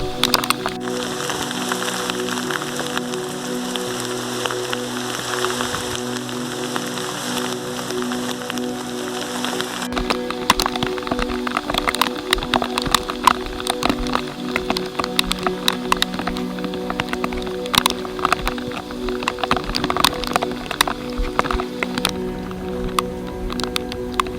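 Heavy monsoon rain pours down on a mountain trek at Kudremukha, India, a dense hiss of drops with scattered sharper patters, continuous throughout without any talking.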